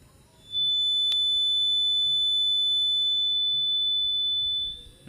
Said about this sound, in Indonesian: sekarang kita matikan untuk buzzernya